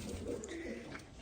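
Soft cooing of caged pigeons, low and murmuring, continuing through the short stretch with faint background noise.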